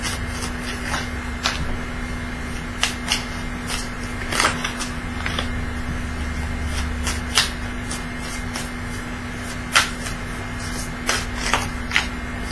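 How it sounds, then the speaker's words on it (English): Tarot cards are shuffled by hand, producing soft scattered riffles and sharp little clicks over a low steady electrical hum, with no one talking. "They're shuffling better."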